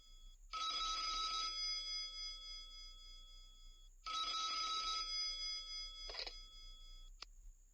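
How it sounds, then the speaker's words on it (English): An old-style telephone bell rings twice in long, bright trills, followed by a brief shorter ring and a click, loud and close with no voices. "At that moment, the telephone rang."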